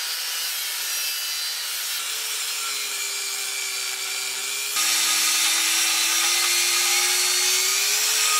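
A 20mm thick metal plate being sawn, giving a loud, steady, close grinding rasp that runs unbroken throughout and grows slightly louder about halfway, with no voices.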